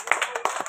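Children clapping their hands together at a Teachers' Day school gathering, several quick, uneven claps in a short burst.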